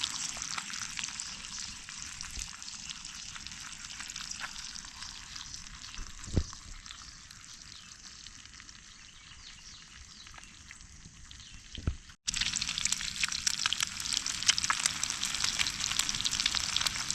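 Bacon and eggs frying in a pan at a riverside camp, a steady close sizzle and crackle that runs throughout with a few sharp pops, briefly cut and then returning louder.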